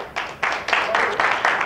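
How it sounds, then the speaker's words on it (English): A church congregation claps in praise, with loud bursts of hand claps arriving in a loose rhythm at about four beats, up close, with faint voices underneath. "Let's give God a hand clap of praise."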